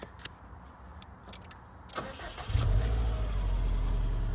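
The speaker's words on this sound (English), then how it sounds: "let's just start her up, shall we? And listen to that engine." A Subaru WRX STi Final Edition's engine cranks briefly and catches, then settles into a low, steady rumble at idle, close by.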